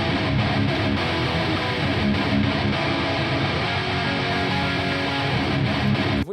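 Distorted metal guitar played back with the top end pulled down by EQ, leaving a dense, loud, continuous crunch with less hiss up high, heard alone without talk.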